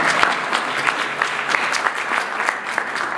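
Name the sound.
audience applause for a candidate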